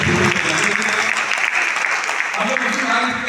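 Loud, dense audience applause fills a Holi celebration comedy poetry gathering at a national sugar institute, sustained clapping from a large crowd heard close and continuous throughout.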